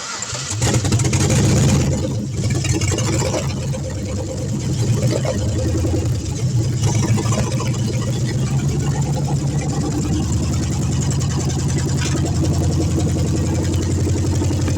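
A car with a swapped-in LS engine cranks briefly and catches, then settles into a steady, loud idle with a slight rev at the start, heard up close.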